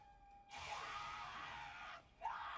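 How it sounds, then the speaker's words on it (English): A male anime character in Demon Slayer lets out a long, strained scream lasting over a second, breaks off briefly, then starts again with a rising cry. No other voices are heard. "He's always screaming."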